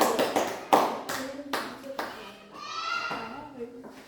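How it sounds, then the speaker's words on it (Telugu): Schoolchildren clap together in a classroom, several sharp rounds of hand claps in quick succession mixed with children's voices talking. "క్లాప్స్ కొట్టండి."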